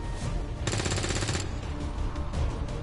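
Automatic weapon fire in the video game XCOM 2 rattles in a rapid sustained burst, loud and close, amid dense game sound effects.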